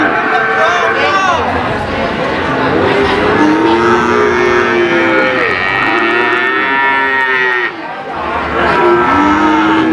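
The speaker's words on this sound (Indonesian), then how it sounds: "Sapi-sapi bibitan." Breeding cattle, young heifers among them, low repeatedly at a crowded livestock market in Pati, Central Java, with long overlapping moos near and far over a steady hum of crowd chatter and talking voices.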